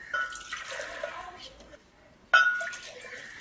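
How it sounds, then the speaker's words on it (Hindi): Water is poured into cups while preparing oral rehydration solution at home, giving two short splashing pours separated by a pause, with someone talking over them. "मैं इसको 1 लीटर पानी निकालने लगी, यानी कि 4 कप मैं निकालूंगी।"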